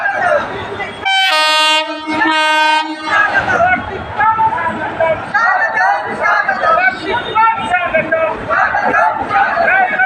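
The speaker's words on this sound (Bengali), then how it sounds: "আসছে ট্রেনটি প্ল্যাটফর্ম 1 নম্বরে।" A train pulls in at platform 1 on its inauguration day, opening with two long blasts of its horn, then a steady rumble and clatter of wagons rolling past while a crowd chatters loudly nearby.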